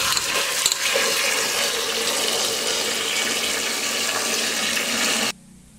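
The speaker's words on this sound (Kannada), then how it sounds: "ಬೆಂಡೆಕಾಯಿನ ನಾವು 2 ರಿಂದ 3 ಸಲ ನೀರಿನಲ್ಲಿ ಚೆನ್ನಾಗಿ ತೊಳ್ಕೊಬೇಕು" Running water as okra is rinsed in a sink for chutney, a steady continuous splash and flow that cuts off abruptly near the end, with no voices.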